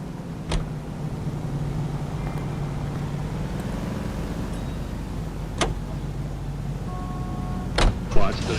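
A car driving in L.A. Noire, a steady low engine hum running throughout with a few sharp clicks and knocks, while people talk over it.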